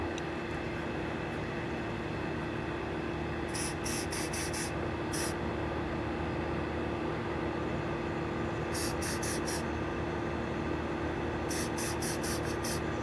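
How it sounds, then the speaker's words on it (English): Glue accelerator sprayed from a can onto the underside of a thrift-store decor piece, in three separate clusters of short hissing bursts over a steady background hum. "I'm going to take a little of this accelerator and I'm just going to spray it on the bottom here."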